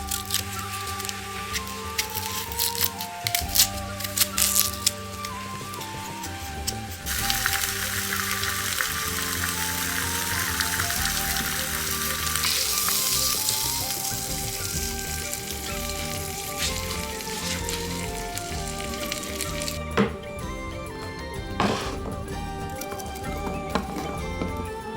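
Onions frying in a pan over hearth coals, a continuous hissing sizzle that swells in the middle and settles again, heard close over a layered background with occasional light knocks.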